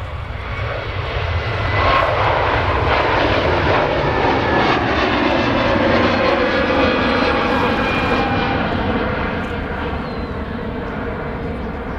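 Aircraft engines roar steadily and loudly at Manchester Airport, a sustained, close drone with no talk over it.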